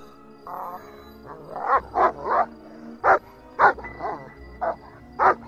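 Adrian, a guard dog in the game Murder In Tehran's Alleys, barks and yips in loud, close bursts, with a few whimpering whines between them, spaced irregularly over a low hum.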